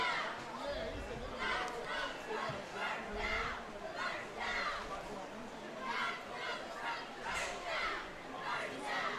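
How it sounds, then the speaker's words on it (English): High school cheerleaders chant in rhythmic bursts for the CHS Trojans during a football game against Serra Catholic, heard at a distance and fairly faint over a busy stadium crowd. "you can hear our CHS cheerleaders here as they cheer on the Trojans"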